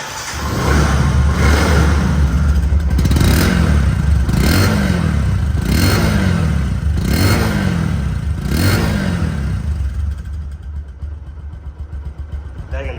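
A 2021 Bajaj Discover 125cc motorcycle in showroom condition runs with a steady, loud engine drone, and rhythmic throttle swells rise and fall about every second and a half before easing off at the end.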